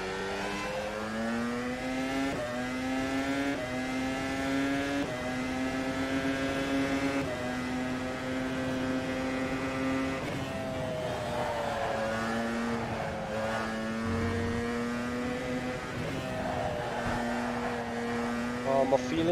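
Formula Pro race car in rFactor 2 at Zandvoort, its engine droning steadily with pitch rising and falling through gear changes and corners, fairly quiet and even throughout, and no speech.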